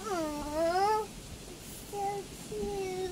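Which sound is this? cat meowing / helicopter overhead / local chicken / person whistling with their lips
cat meowing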